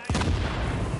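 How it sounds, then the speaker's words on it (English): A grenade explodes in the video game The Division, a sudden loud blast with a rumbling boom that carries on for about a second. "I'm gonna blow him up with the grenade."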